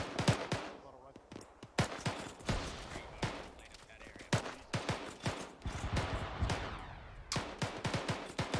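Rapid rifle gunfire in the military shooter game Arma 3, sharp shots cracking in uneven bursts and scattered single reports throughout, with voices talking among the shooting.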